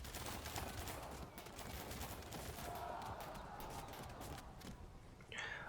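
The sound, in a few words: long range gunfire in video game Field of Glory II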